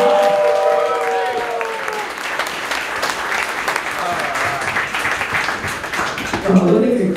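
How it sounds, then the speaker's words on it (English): Applause at the Pride Of The Hide 2022 contest, a steady wash of clapping from the crowd with voices over it and a short musical flourish at the start. "Please give a big round of applause to Rubber Mat"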